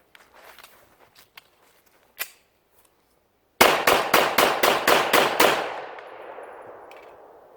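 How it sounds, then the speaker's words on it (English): A Rock Island Armory 1911 pistol is emptied in a rapid magazine dump: after a few faint handling clicks, eight loud, evenly spaced shots crack in quick succession and then ring off into a fading echo. "We're just going to see how quickly can we shoot this gun and see if we can make it jam."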